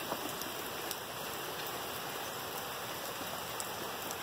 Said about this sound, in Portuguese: Chuva na cidade de Alumínio, interior de São Paulo.